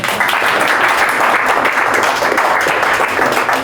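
An audience breaks into a round of applause, dense steady clapping that fills the whole moment at close, loud level with no break.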